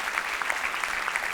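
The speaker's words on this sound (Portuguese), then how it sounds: "Vamos aplaudir a palavra do Senhor nessa noite?" A church congregation bursts into applause during a worship service, a dense, even wash of clapping from many hands that holds steady for a short burst with no speech over it.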